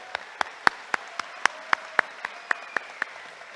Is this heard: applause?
yes